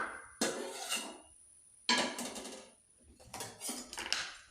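Dishes and cutlery clatter in a home kitchen as curry is served into a bowl: several separate bursts of metal and ceramic clinks and scrapes, close and fairly loud, with a steady faint high whine in the background.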